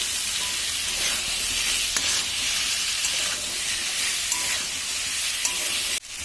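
Duck eggs and potatoes fry in a spiced masala with a loud, continuous close sizzle and faint stirring scrapes, then a brief thump just before the end.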